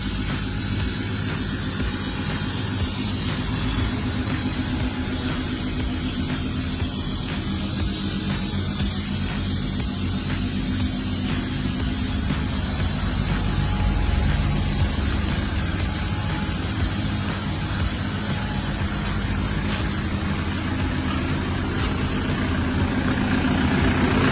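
A pickup truck engine runs at a steady, loud idle after starting, with a deep, continuous rumble and no talk over it.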